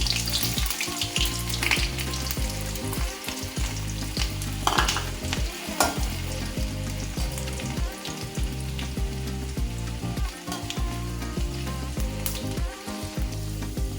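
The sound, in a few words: garlic and ginger frying in hot oil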